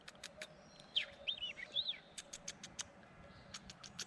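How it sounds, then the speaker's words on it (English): A small bird chirps close by outdoors, giving several sharp, high twittering calls. Soft tapping sounds are scattered throughout against a quiet background. "There's a little beautiful bird who just came so close."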